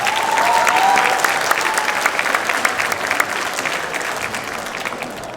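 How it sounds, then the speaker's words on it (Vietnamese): Audience applause for a Nepalese dance group at an orchid fair opening ceremony, a steady wash of clapping from a crowd that starts strong and holds at a slightly lower level throughout. "Big applause from Nepal."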